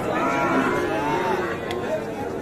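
Young bulls and heifers at the Ambari cattle market in Parbatipur, Dinajpur, with a dense crowd din and low lowing blended into the chatter.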